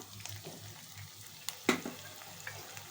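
Ginger and garlic paste frying with spices in a pan, a low steady sizzle under scattered clinks and one sharp scrape of a utensil, fairly quiet and close.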